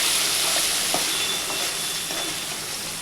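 Chillies, coriander seeds and cloves frying in oil for a coriander masala make a steady, loud hiss and crackle, close and continuous throughout, with faint stirring underneath.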